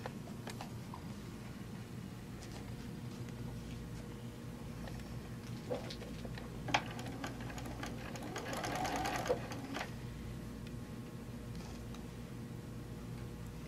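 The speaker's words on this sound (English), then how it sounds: "we are going to stitch that seam" A sewing machine stitches a quilt seam, a fast steady mechanical whirr with ticking clicks running throughout, quiet and close, with a slight swell in the middle.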